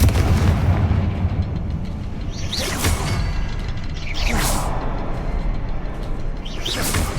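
Confringo spell blasts in the Hogwarts Legacy video game: three sharp whooshing bursts roughly two seconds apart, each loud and cracking over a constant dense rumble of game ambience.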